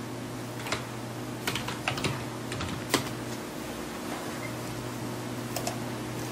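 Computer keyboard typing in irregular bursts of close clicks and key presses, including a firmer Enter keystroke, over a steady low electrical hum with no voices.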